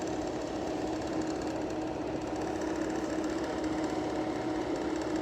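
Outdoor unit of a cooling tower air conditioner running in cool mode gives a steady, even mechanical hum and whir with a fan blowing, continuous and moderately loud with no talk over it.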